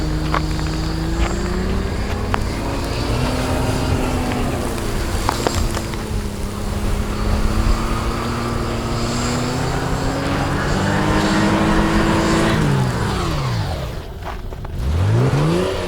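A car engine in a free-differential Toyota or Subaru off-road test pulls up close and loud, its pitch holding steady and then dipping, revving as it rolls to a stop.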